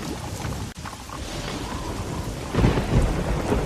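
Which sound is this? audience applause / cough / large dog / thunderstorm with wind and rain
thunderstorm with wind and rain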